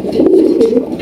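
A large maxi racer pigeon coos close up, a single soft throaty warble with a wavering pitch lasting about a second, with no speech over it.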